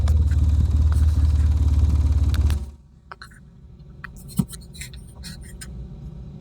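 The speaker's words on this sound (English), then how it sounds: "That is the engine there at full throttle." A parked quad ATV engine roars loudly at full throttle, a dense low rumble that suddenly cuts out, leaving quieter background clatter and scattered clicks.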